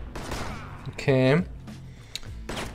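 A gunshot headshot in the western shooter game Six-Guns: Gang Showdown, one loud sharp blast with a short ringing tail, set among quieter game sounds and a voice before and after.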